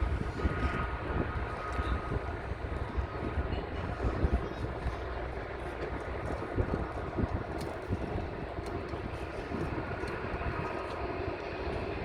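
A Jetstar airliner at Sydney airport produces a broad, continuous jet engine roar that stays steady and fairly loud throughout, with no talking over it.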